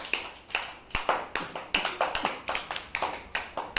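A class of schoolchildren clapping for a classmate, with quick close bursts of hand claps in an uneven rhythm that repeat about every half second and keep going the whole time, without any speech.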